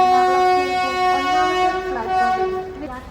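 A sustained, loud horn tone lasts about three seconds with a slight pitch shift near the end, as the Thiruvananthapuram–Nizamuddin superfast express stands at the station.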